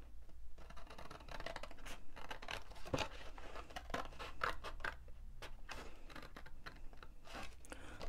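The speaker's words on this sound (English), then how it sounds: "we're going to move to the first score line and cut up to this very first score line here" Scissors snip through card stock along a score line while a cupcake display box is assembled, giving crisp, close cutting and scraping strokes that repeat steadily through the clip, with no talk.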